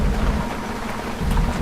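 Stormy weather with rain and rumbling thunder, a dense wash of falling rain under low booming rolls that swell toward the end.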